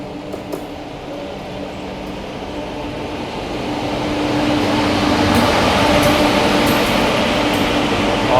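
Garba Superfast Express train running from Howrah to Gandhidham via Ahmedabad, a steady loud rumble and rushing noise heard from inside the coach, growing louder midway, with faint clicks and rattles and no talk.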